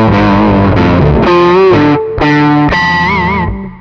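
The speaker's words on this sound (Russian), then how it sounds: "Это что-то тоже такое более кранчевое для соло." A crunchy overdriven electric guitar plays a short lead phrase with bends and vibrato, loud and saturated, ending on a sustained note.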